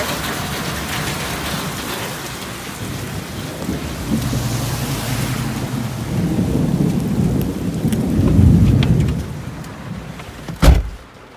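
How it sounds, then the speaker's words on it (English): Steady rain pours during a storm with a tornado warning in effect, a constant hiss broken by rolling thunder that builds louder toward the end and ends in one sharp, close crack. "And it's a little rainy."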